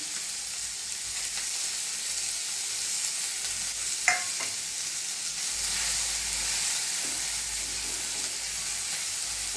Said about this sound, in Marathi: आता त्याच्यामध्ये कांदा पहिल्यांदा परतून घेऊया छानपैकी